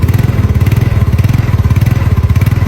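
Yamaha Mio motorbike engine idling close by, a loud steady putter with rapid regular pulses throughout, no voices over it.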